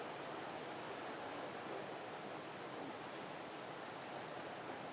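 Ocean waves break near rocks at a surf contest in Arica, Chile, heard as a continuous, dense wash of surf, steady and moderately quiet, with no voices.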